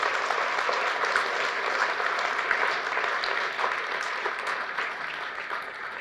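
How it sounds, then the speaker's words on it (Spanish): A congregation gives sustained, loud applause to the Lord during a Catholic worship service, with dense clapping filling the whole stretch evenly and no speaking. "Fuertes aplausos al Rey de Reyes y al Señor de Señores."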